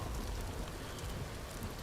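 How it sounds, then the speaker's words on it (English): Steady rain falling in Vintage Story, a wilderness survival game, a dense continuous hiss of drops on surfaces with a low rumble beneath, even and unbroken throughout with no voices. "it's pretty rainy out here"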